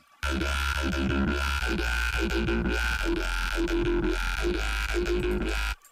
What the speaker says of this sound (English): Congratulations, you just made bass.